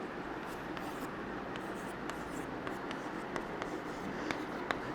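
A marker or chalk writes on a board during a chemistry lesson, with faint scratchy strokes and small taps over a steady room hiss and no clear speech.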